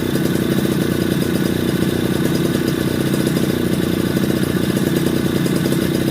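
A Suzuki Tornado two-stroke motorcycle engine held at about 1500 RPM during two-stroke oil pump setting, a loud, steady, rattly engine drone with even pulsing throughout and no talk.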